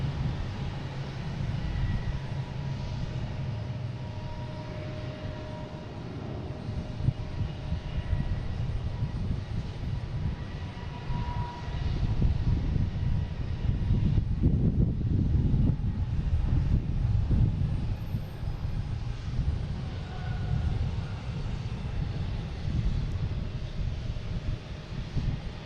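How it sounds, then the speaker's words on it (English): A Southwest Boeing 737-800 arriving from Chicago Midway to land at Boston Logan gives off a steady, fairly loud low jet roar. The rumble swells somewhat near the middle and is heard without any talking. "we got Southwest coming in from Chicago Midway, 737-800"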